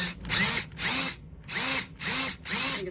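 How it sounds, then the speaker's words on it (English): A power drill works a fastener out of an Aliner camper door in five short whirring bursts with brief pauses between, loud and close. "I'm gonna try to drill this out"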